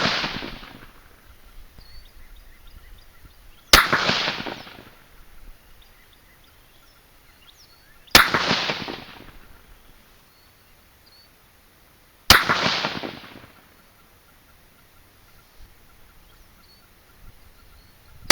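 Three sharp, loud .220 Swift rifle shots with 55-grain V-Max bullets over 34 grains of 30-31 powder, each crack followed by a short echoing tail and spaced about four seconds apart amid quiet outdoor ambience.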